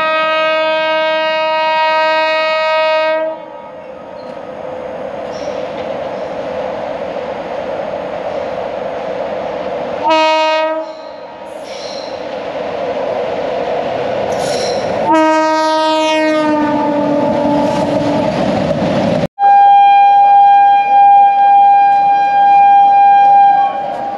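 Kashi Vishwanath Express pulling into Varanasi: loud, sustained horn blasts repeat several times over a steady rumble and rattle of the moving train, ending on a long, clear horn note.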